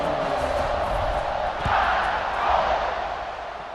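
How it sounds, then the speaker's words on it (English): A stadium crowd cheers in EA Sports College Football 26 during an Alabama versus Florida State game, a broad sustained roar that swells midway and again near the end, with a faint commentator voice beneath. "this crowd is feeling themselves after that last drive"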